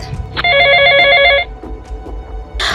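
A phone rings with a bright electronic trilling tone that lasts about a second, standing out loudly over quiet surrounding noise.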